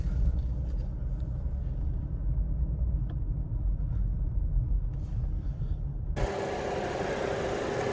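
A loud, rowdy car engine idles at a car yard in Osaka, a steady low rumble that runs unbroken before a harsh broadband hiss abruptly takes over near the end.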